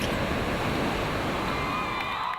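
Ocean waves rolling onto Dakhla beach at the end of the day, a steady continuous wash of surf with a faint crowd murmur far off, no distinct breaks.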